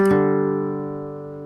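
Slide guitar phrase from a song, a single plucked note with a brief attack that rings on and slowly fades over about a second and a half, alone.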